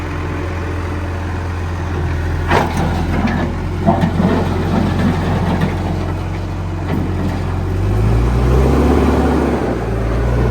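A John Deere 310SG backhoe engine rumbling and revving while its tires spin in two-wheel drive, a loud close steady low drone that rises in pitch toward the end, with a few scrapes and clunks.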